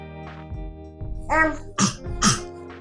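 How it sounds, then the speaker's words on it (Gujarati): Three harsh coughs in quick succession, close and fairly loud, the last two sharper and more forceful, with no talking. "એ ઉધરસ આવે"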